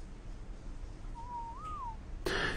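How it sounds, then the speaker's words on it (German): A single bird calls in ARK: Survival Evolved, one drawn-out, slightly wavering hoot-like note in the middle distance over quiet ambient game sound, followed by a brief sharp noise near the end. "Da oben ist Vogel."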